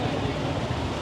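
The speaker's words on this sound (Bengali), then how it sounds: "প্রচুর হাওয়া দিচ্ছে, জানি না সাউন্ডটা কেরাম আসবে" Strong wind buffets past outdoors in Puri, a steady low rumbling roar that fills the short moment without letting up.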